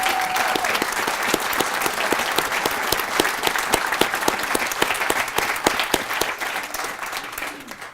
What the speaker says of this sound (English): How about a round of applause for Song Lee Morris?